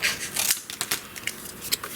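Quick, close snips of scissors cutting paper, a rapid series of crisp strokes with brief pauses between.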